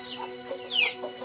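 Chickens cluck and chirp in a cow pen in Central Lampung, Indonesia, where five cattle feed on dry straw. A few short, fairly close calls come one after another, with no one speaking.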